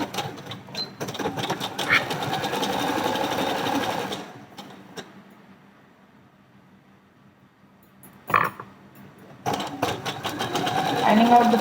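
Sewing machine stitching a folded 1.5-inch hem on a blouse sleeve, a rapid mechanical whirr that runs in bursts, stops for a quiet pause with a brief clack, then resumes close and loud.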